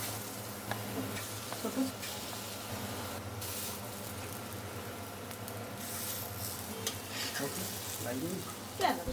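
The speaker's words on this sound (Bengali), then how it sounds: "দিয়ে দেবো সরিষার তেল ছোট ছোট করে বড়িগুলো দিয়ে দেবো" Small lentil fritters sizzle steadily in hot mustard oil, a dense continuous frying hiss with occasional soft spatters and clinks, close and unbroken.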